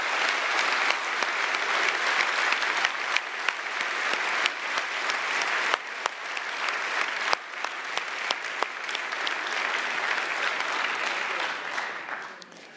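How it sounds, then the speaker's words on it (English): Sustained audience applause at a partners' thank-you event, dense steady clapping from a sizable crowd that holds evenly for about twelve seconds before tapering off at the end. "Please give them a big round of applause."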